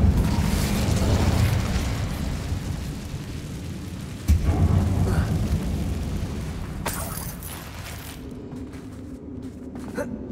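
A fire spell cast in the Hogwarts Legacy video game lets out a loud whooshing, roaring burst, followed by a second sharp blast midway that fades into a lingering rumble.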